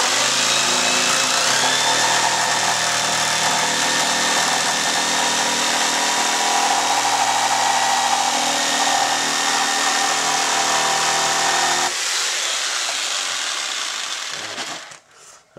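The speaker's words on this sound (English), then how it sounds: "Now I'm going to get my saw out here. And we'll do a little cutting here now." A hand saw cuts through deer antler for a mount in a loud, sustained rasping grind lasting about twelve seconds, then stops abruptly, followed by a few faint knocks.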